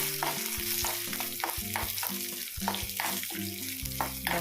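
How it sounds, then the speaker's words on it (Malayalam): Chana dal and dried red chillies fry toward golden brown in a pan for a chutney, with a soft sizzle and a steady run of scraping stir strokes close by. "ഒന്ന് ഗോൾഡൻ ബ്രൗൺ ആവുന്നവരൊന്ന് വറുത്തെടുക്കാം"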